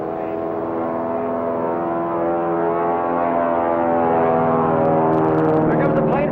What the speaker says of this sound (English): Here comes the plane for a reload, right on time.